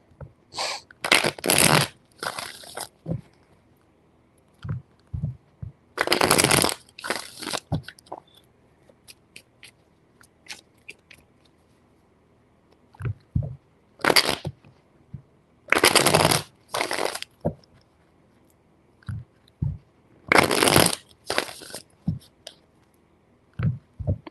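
Tarot cards being shuffled in several quick bursts of crisp riffling, separated by quiet pauses and soft handling taps, close and alone.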